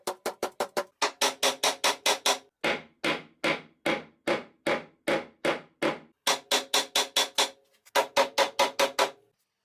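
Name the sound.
mallet tapping a wooden block to drive in dowels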